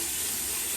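Hot water runs steadily from a sink tap while someone shaves with a razor, a continuous close splashing stream with no voices.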